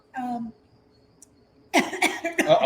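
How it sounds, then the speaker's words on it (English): A short voiced sound, a pause, then several harsh, close coughs in quick succession. "we got the old cough coming across"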